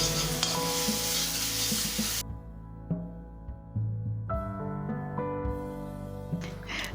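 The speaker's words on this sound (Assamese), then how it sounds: "এতিয়া মই ফ্ৰাই কৰি থাকিম।" Paneer masala fries in a pan after a splash of water: a loud close sizzle at first, then a low simmering bubble with a few spoon taps and stirs, and a steady hum behind.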